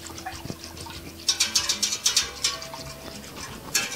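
Whisking a mixture in a bowl gives quick, bright scraping strokes in a steady run of close, moderately loud bursts, preceded by quieter clinks and kitchen noise.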